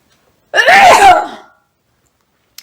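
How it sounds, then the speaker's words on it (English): A single sharp human sneeze bursts out loud and close, lasting under a second, then silence follows. "Oh boy, I got sneezing coming."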